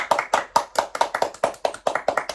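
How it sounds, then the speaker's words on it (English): Rhythmic hand clapping at a podcast taping, roughly a dozen crisp, evenly spaced claps in a steady beat, close and fairly loud with no talking. "Clap your fucking hands"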